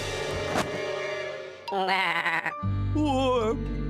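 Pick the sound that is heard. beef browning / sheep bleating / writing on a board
sheep bleating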